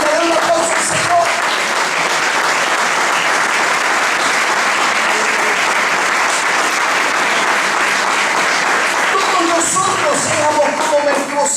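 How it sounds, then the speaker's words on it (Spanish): A church congregation applauds during a sermon, steady, loud clapping from many hands filling the room for several seconds, with a few voices rising near the end. "den un aplauso al Señor"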